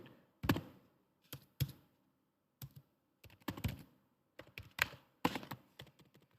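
Linux command typed on a computer keyboard in a quiet room, short bursts of close, crisp key clicks separated by brief pauses.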